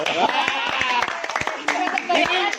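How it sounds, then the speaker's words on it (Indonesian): Audience clapping in applause at a women's self-defense martial arts session, a dense run of claps with some louder spikes and voices mixed in. "berikan aplaus"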